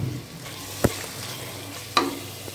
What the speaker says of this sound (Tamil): இந்த தயிர் ஊற்றும்போது தக்காளியும் நல்லா வதங்கிடும்.